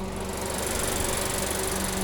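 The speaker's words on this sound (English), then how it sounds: "Under the hood here is a 2-liter turbocharged 4-cylinder." A 2022 Infiniti QX55's 2-liter turbocharged four-cylinder runs steadily under the hood, giving a constant close-up engine drone with a fine mechanical whir and no voices.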